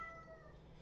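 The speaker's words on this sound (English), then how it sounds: "excuse the cat meowing over there" A cat meows faintly in the background indoors, one short, thin call that is quiet and distant.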